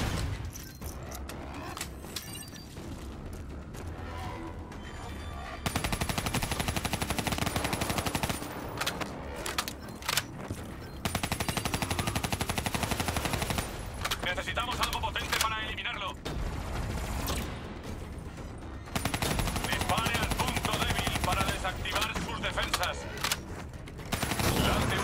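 Rapid automatic gunfire and bursts of shooting in a Call of Duty Black Ops 3 campaign battle, loud and dense, with mechanical clatter and shouted voices mixed through the fight.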